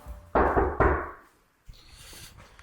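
Two loud, close knocks on a door in quick succession, followed by a quieter rustle of room noise.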